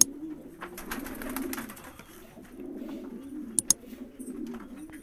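A breeding pair of roller pigeons coos softly and repeatedly at close range, low throaty rolling calls in two bursts, with a couple of faint clicks in a quiet setting.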